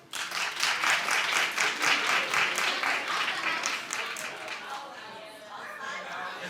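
Studio audience of a daytime talk show claps in a dense burst of applause, loud at first and then tapering slightly while continuing steadily.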